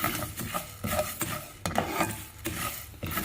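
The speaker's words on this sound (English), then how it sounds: "And you have to fry all these things." Fennel seeds frying and being stirred in a pan for homemade chilli pickle, a steady soft sizzle broken by repeated scraping strokes of a spoon, close and moderately loud, with no talking.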